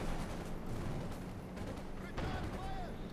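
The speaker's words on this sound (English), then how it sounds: "A mortar firing down the Panzer Grenadiers." Mortar fire in the World War II strategy game Company of Heroes, with deep booms and thuds set in a rumbling battle din, moderately loud, while a voice talks over it.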